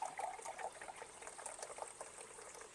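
Beef broth pours into a cooking pot, a faint bubbling, trickling stream of liquid that runs continuously for a few seconds with no talking.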